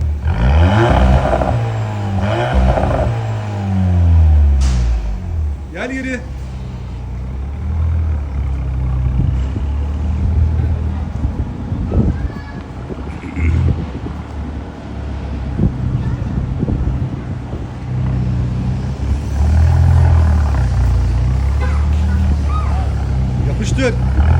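A Cupra Formentor 1.5 TSI with a remote-controlled valved performance exhaust kit in loud mode, heard from outside: the engine revs rise and fall at first, then settle into a steady drone, with wind buffeting and people talking.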